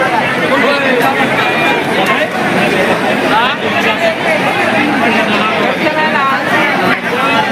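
Dense crowd of devotees at the Balumama temple at evening, a steady loud babble of many overlapping voices and chatter with footsteps and movement, continuous and close throughout.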